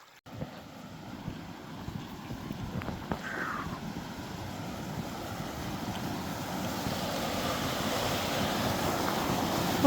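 Stream water rushes over a trail water crossing on the Centennial Trail, a continuous broad hiss that swells gradually louder with no one speaking.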